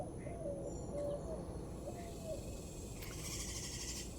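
A couple of birds squabble over bark butter in a Texas Gulf Coast backyard, with faint short chirps and calls, including a brighter burst near the end, over a constant hum of insects and low outdoor rumble.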